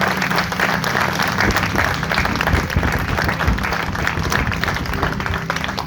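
Loud, steady applause from a church congregation, dense and continuous, with a few voices rising over the clapping throughout.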